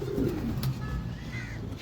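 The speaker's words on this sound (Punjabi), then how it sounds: "ਇਹ ਮੇਨ ਵੱਡਾ ਫਲਕਸ਼ੀਰ ਕਬੂਤਰ ਹੈ" A large Flakshir pigeon gives soft, low cooing close by, fairly quiet against a muffled background murmur, with no clear speech.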